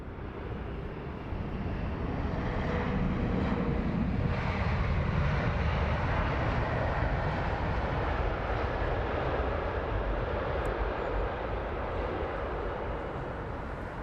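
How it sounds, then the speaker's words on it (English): A United Airlines Boeing 787 Dreamliner jet that has just landed at London Heathrow Airport gives a continuous, distant engine roar that swells and then eases slightly, mixed with light wind noise. "this would be the United Airlines that just landed, this Dreamliner"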